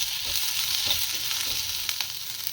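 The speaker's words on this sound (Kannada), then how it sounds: "ಒಂದು 2 ಸ್ಪೂನ್ ಎಣ್ಣೆ ಹಾಕ್ಕೊಂಡು ಎಣ್ಣೆಯಲ್ಲಿ ಬಾಡಿಸ್ಕೊತಾ ಇದ್ದೀನಿ." Curry base ingredients fry in about two spoons of oil for a horse gram sprout sambar, a steady close sizzle with a few soft stirring scrapes, continuous and without talking.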